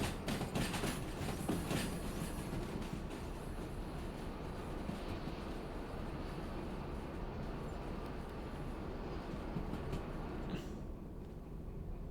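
A freight train rolls steadily through the Derail Valley VR railway game, a continuous loud rumble with clickety-clack wheel noise and rattling wagons, no voices, easing slightly near the end.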